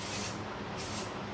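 Texturizing hair spray hissing steadily from an aerosol can onto hair for volume, a continuous close spray with two slight pulses and no talking.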